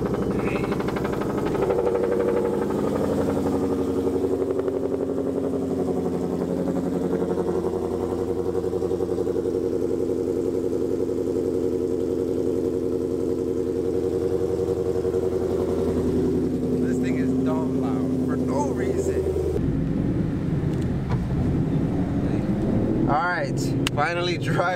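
A Ford Mustang 5.0 cold-starts and idles with a deep, steady rumble that holds close and loud for most of the stretch, then shifts as it pulls away, with voices talking over it.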